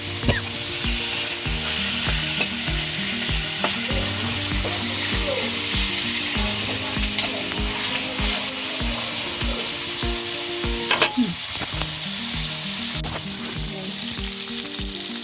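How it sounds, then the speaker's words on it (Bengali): Chicken pieces frying in very hot oil, a loud continuous sizzle and crackle, close by, with occasional stirring scrapes and a faint low hum underneath. "তেল অনেক গরম হয়ে গেছে অল্প অল্প করে ভাজি করি"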